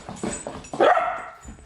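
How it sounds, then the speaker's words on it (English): A dog gives a few short barks and yips, building to one louder, drawn-out bark or whine near the middle, close by in a home with a new puppy. "Crazy dog."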